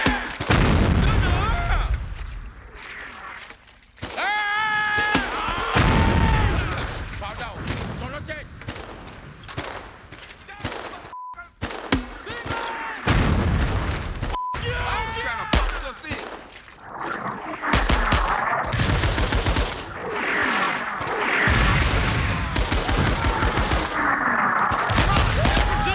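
Battletech game combat, with heavy booming gunfire and explosions pounding over nearly half a minute, interleaved with shouted voices.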